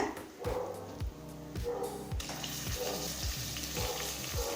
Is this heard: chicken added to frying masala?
yes